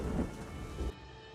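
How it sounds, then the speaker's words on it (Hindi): A thunderstorm with heavy rain: a dense downpour and low rumbling thunder, loud and close, cutting off abruptly after about a second. No voices. "अचानक तेज बारिश शुरू हो गई।"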